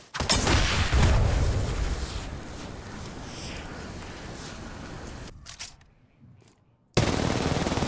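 A heavy-recoil gun in a video game fires bursts of loud, rapid shots, fades to near silence, then opens up again abruptly.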